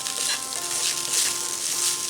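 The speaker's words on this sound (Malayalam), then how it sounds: "ഈ ചോറൊക്കെ കുറച്ചൊന്ന് ഫ്രൈ ആയി വരട്ടെ." Rice frying in a pan, a continuous bright sizzle close up with faint scraping and stirring underneath and no talking.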